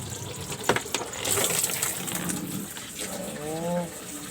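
A washing machine drains water, a machine being repaired for a fault where water overflows even when it is not draining. Steady close gushing and rushing water fills the clip, with a few brief tonal squeaks toward the end.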